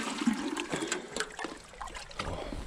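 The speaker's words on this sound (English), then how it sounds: "water the greenhouse a little bit." Water splashes and trickles while a greenhouse on a homestead is being watered, an uneven, close splattering flow heard alone with no talk.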